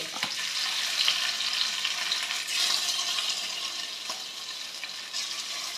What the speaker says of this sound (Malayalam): പാൻ ചൂടായി മക്കളെ. ഇനി മീനിടുക.